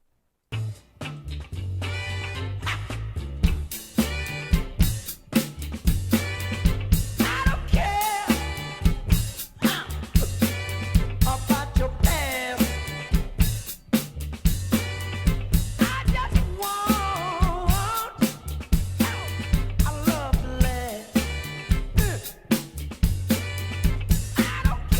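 A drum kit plays a funky fatback groove, a steady, syncopated kick, snare and cymbal pattern that repeats for about 25 seconds, close and loud.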